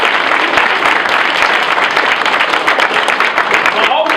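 An audience claps loudly and continuously for AJ Patel, with dense, close applause and a hint of crowd noise throughout.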